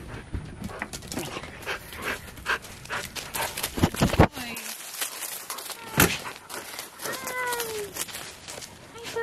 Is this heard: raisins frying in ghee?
no